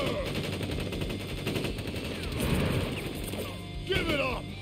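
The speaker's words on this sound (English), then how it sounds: "We make our stand here! Ready, aim, fire!" Troops open fire in Crisis Core Final Fantasy VII Reunion: rapid machine-gun bursts and shots run continuously through a dense battle mix, with a louder crash near the end.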